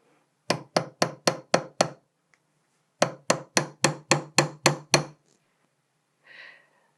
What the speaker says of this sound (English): I'm just going to give this a few taps with my hammer on the top